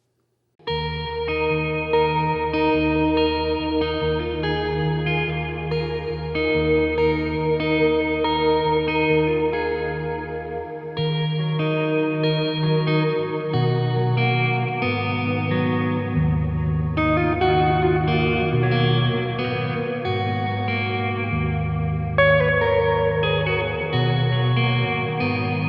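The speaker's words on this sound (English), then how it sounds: "So I wanted to see what sorts of sounds I could get out of this pedalboard." An electric guitar plays sustained chords and notes drenched in chorus, echo and reverb effects, layered and shimmering, with no talking.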